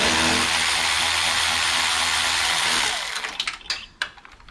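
A power tool spins loose the upper radiator bolts on a Toyota 1FZ-FE engine, a loud steady whirring buzz for about three seconds, then winding down into a few close metallic clicks and clunks.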